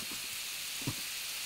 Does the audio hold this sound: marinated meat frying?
yes